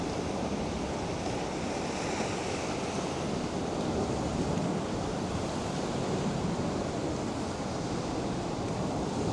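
Ocean waves wash against the Barbados coast beside a church near St Lawrence, a constant broadband roar of surf mixed with wind buffeting, steady and loud throughout with no voices.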